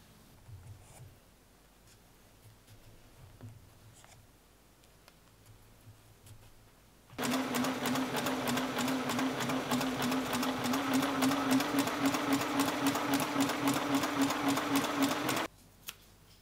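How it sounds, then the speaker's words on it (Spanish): A sewing machine stitches fabric for a flower-neckline top, running in a steady loud whir for about eight seconds after quiet handling, then stopping abruptly. "le voy a poner alfileres y nos vamos a coser"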